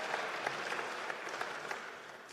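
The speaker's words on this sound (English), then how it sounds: "Round of applause." A room full of people at a PowerPoint karaoke event applauds a presenter. The steady, dense clapping is close and fairly loud and continues throughout the brief moment.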